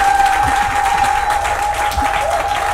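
Church congregation applauding and cheering at a food bank launch event, a continuous wash of clapping and crowd noise with a sustained musical tone running underneath, loud and steady.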